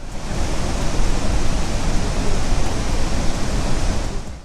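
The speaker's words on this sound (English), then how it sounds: "Water from the Krishna River enters the dam and then gets released through floodgates." Water pours fast and hard through the floodgates of a dam on the Krishna River, a steady, loud broadband roar of rushing discharge with no letup and no voices.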